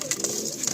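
Pigeons at a breeding loft with birds for sale, cooing softly and steadily through a brief moment, close by with no talk.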